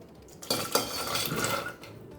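Soaked kidney beans tipped into a pressure cooker, a couple of sharp metallic clinks followed by a brief rattling, scraping clatter of beans against the steel pot, close and alone.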